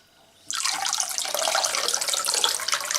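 A tap is turned on and water runs steadily onto a ThruNite Archer 2A V3 flashlight during a stress test, a sudden loud rushing splash that starts after a brief quiet moment and continues without a break.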